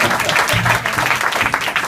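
Concert audience applauding for someone behind the bar, a dense, steady wash of clapping close by, with a voice briefly audible over it.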